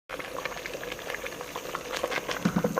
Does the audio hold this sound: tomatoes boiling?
yes